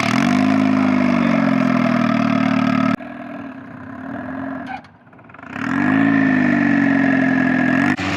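A turbocharged Mazda Miata of about 200 horsepower runs steadily at close range, its engine note dipping and going rough for a couple of seconds midway before settling back into a strong, even drone.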